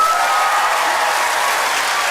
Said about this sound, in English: Applaud if you think it's in box number 2.